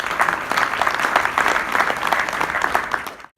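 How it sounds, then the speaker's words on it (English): An audience at a 2019 partners reception applauds in a dense, steady burst of clapping that holds for about three seconds before trailing off abruptly at the end. "So give yourselves a big round of applause."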